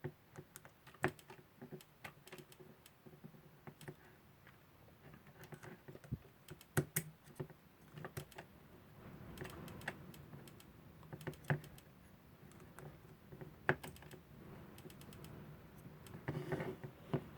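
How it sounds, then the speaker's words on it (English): Spring of a Veglia alarm clock unwinding during disassembly, heard as faint, irregular ticks and light clicks scattered over a quiet background, growing slightly busier toward the end. "See the spring unwinding"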